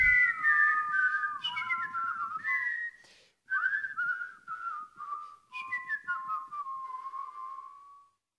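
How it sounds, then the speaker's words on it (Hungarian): A person whistles a slow, wandering melody up close, clear sustained tones with brief pauses between phrases, no talking. "Szállt a fütyszó a víz felett a csendes nyári éjszakában."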